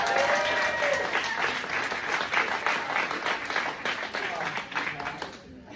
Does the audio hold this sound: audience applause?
yes